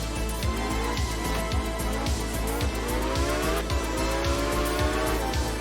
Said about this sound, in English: So you can hear the car sounds very special